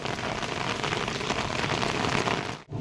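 Heavy monsoon rain in Shimla pours down as a dense, continuous hiss and patter close by. It is loud and steady throughout, then dips briefly at the end.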